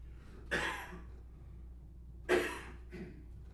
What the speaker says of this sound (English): I'm gonna have to cough, I'm sorry.